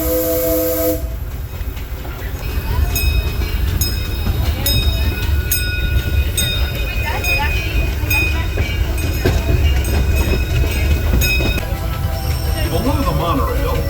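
The Disneyland Railroad train rolls along behind the Ernest S. Marsh steam locomotive near Toontown Depot, with steady wheel clatter and rumble throughout and a bright whistle sounding over it, loud and close.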